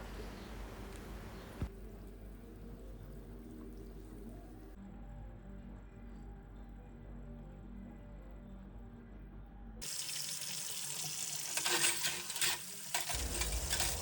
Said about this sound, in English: You can instantly start to hear the fizz and the cackle